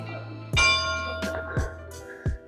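Church bell at the Abbey of Saint Gall striking the hour, three resonant, ringing strokes about a second apart, each with a long humming decay, heard outdoors at moderate distance.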